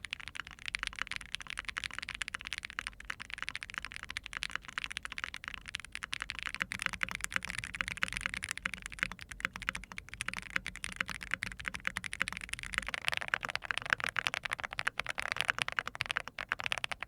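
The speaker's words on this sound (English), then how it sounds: "this is one of the better sounding keyboards even with flex cuts" Steady typing on a Smit6y Works Aeroboard 70 mechanical keyboard with flex cuts and leaf-spring mounting, a continuous close stream of crisp keystrokes with no talking.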